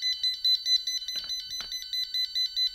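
An electronic alarm system switched into fire alarm mode beeps in a fast, steady, shrill pulsing pattern, moderately loud and alone, with a couple of brief clicks partway through.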